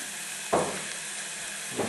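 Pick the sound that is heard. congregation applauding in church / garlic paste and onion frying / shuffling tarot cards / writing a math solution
garlic paste and onion frying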